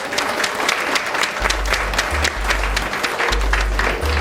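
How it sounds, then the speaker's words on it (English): Audience applauds loudly for a prize-winning photographer named Pete, continuous close clapping with intermittent low thumps underneath. "a big round of applause for Pete"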